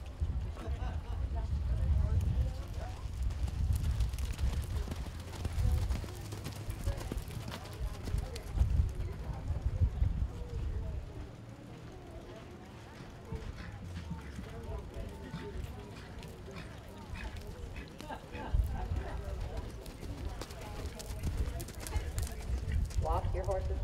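Horses lope around a 4-H western class arena at a county fair, giving a muffled, rolling drum of hoofbeats under a low, steady ambience while voices talk nearby.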